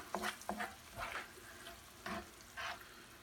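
A spoon stirs chorizo pasta sauce with cumin in a pan, the scrapes coming in short uneven bursts over a soft sizzle, close and fairly quiet.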